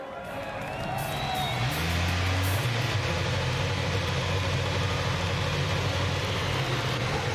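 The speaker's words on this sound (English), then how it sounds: "the cars come to life and will momentarily be moving away from pit lane for 2 warm-up laps" IndyCar race cars fire up on pit lane at Chicagoland, a dense roar of engines settling into a loud, continuous idle that builds and then holds steady, with faint crowd noise beneath.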